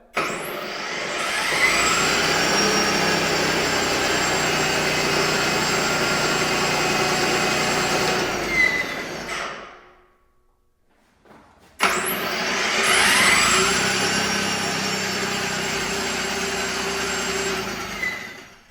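An EGO 28-inch battery two-stage snowblower's auger whirs loudly and steadily, stops briefly, then starts up again with the same high, droning hum.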